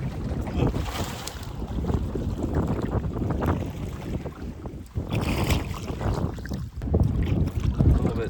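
Strong wind over a big lake roars and buffets steadily throughout, with gusty rushing noise and rumbling wind hitting the microphone, loud and close.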